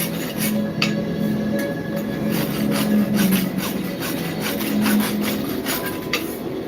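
A metal file rasping back and forth across a hand-forged axe head, a close, steady series of gritty strokes repeating about twice a second without pause.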